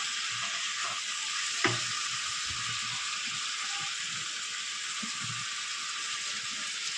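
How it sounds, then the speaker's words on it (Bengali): Ground chilli, coriander and roasted cumin sizzle steadily in a pan for a fish-head and vegetable curry, with soft scraping stirs and one sharp utensil knock early on. "ভালো করে মশলাটা কষিয়ে নেবো।"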